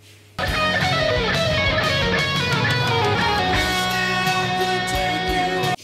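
Overdriven electric guitar plays a phrase from a solo, with dense sustained distorted notes at a loud, steady level that start abruptly and run without pause.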